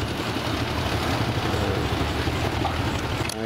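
A tractor engine runs steadily at a lakeside, carrying a load of cassava near Dau Tieng Lake; a continuous low rumble holds at an even level throughout, close and fairly loud, with no voices over it.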